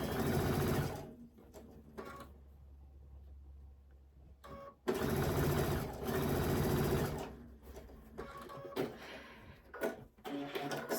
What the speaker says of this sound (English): I just chain stitched all those